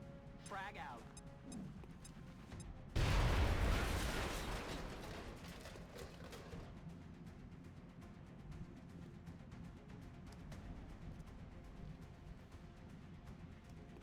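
A frag grenade detonates in XCOM: Enemy Within, a loud sudden blast that rumbles and slowly fades over several seconds above a steady background of game ambience, with a voice speaking around it.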